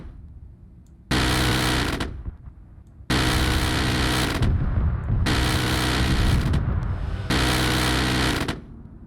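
In ARMA 3, a Vulcan gun fires armor-piercing rounds in four long continuous bursts, each a loud, dense, buzzing roar lasting over a second. Short gaps between bursts carry a lingering rumble.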